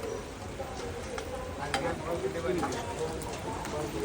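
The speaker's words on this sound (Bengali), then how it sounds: "এই পেঁয়াজ কি ভাজা ভাজা হয়ে গেছে" Chopped onions sizzling in a pan of hot oil while ghugni is being cooked, giving a steady crackling hiss with brief sharper pops, and a voice speaking nearby.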